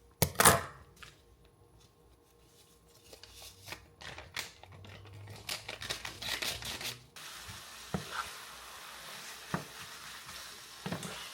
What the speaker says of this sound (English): Okay, so I am putting the hamburger meat here in the pan